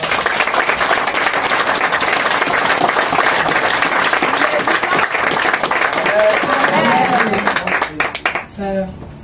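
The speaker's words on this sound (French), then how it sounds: "Est-ce qu'on peut acclamer le Seigneur?" A church congregation claps and cheers loudly and continuously, with voices mixed into the applause before it fades near the end.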